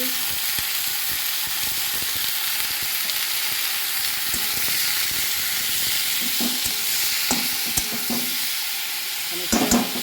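Food sizzles and fries steadily in a pan seasoned with salt and turmeric, a dense continuous hiss with occasional scraping stirs, close and fairly loud with no talk.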